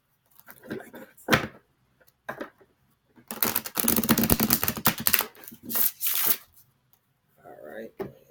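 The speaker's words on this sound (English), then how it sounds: "All right, got that shuffled." A deck of tarot cards is shuffled by hand in several bursts of crisp riffling and flapping, close and fairly loud, separated by short pauses and a few soft taps.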